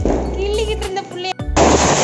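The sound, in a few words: Diwali firecrackers bursting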